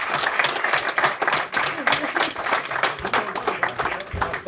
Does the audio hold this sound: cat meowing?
no